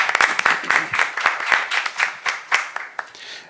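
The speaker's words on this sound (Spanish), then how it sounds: "Les pido también ahora un fuerte aplauso para la maestra Giselle Uribe Merchant." A small lecture audience claps for a speaker, a thin, uneven patter of individual hand claps, fairly close and tapering off toward the end.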